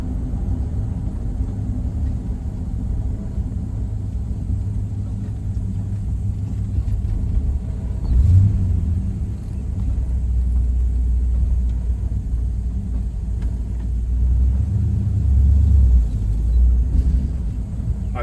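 A 1950 Oldsmobile 88 with a 303 Rocket V8 and three-speed manual drives along in a steady low rumble, swelling as it pulls through the gears, with two louder surges partway through and near the end.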